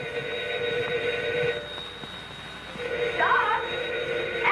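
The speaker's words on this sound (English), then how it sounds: "answer the phone." A telephone in a 1936 drama film rings in long repeated bursts with a pause between them, loud and steady over faint room hiss, with no voices during the ringing.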